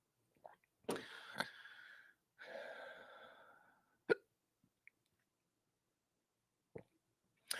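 A person hiccuping, several sharp, close hiccups spaced a few seconds apart, mixed with long sighing breaths and no spoken words.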